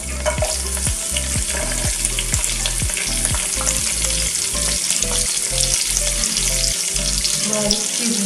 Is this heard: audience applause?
no